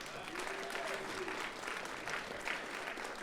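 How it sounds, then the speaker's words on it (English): A crowd applauding at a Martin Luther King ceremony, steady sustained clapping from many hands filling the space, with a faint voice underneath. "Let's give everybody a round of applause for being here."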